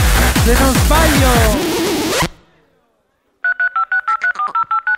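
Telephone keypad DTMF tones beep in a rapid run of about ten evenly spaced presses, clear and close, following a loud burst of chaotic noise and a moment of silence.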